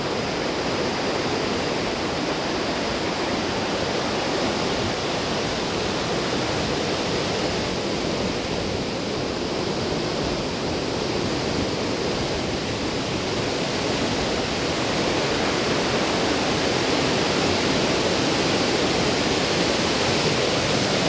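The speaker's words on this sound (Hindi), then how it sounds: "पानी का बहाव भी बहुत दूर से है" Gundicha Ghagi waterfall in Keonjhar pours with a steady, loud broadband roar of rushing water, unbroken and close throughout with no voices.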